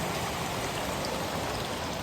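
Running water at a trail water source along the Pacific Crest Trail near the Oregon border, a steady broadband rush and patter heard close and alone for two seconds.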